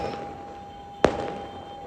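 A single sharp firecracker bang at night during a Karwa Chauth festival celebration, sounding at a moderate distance over a steady background hum, with a short fading tail.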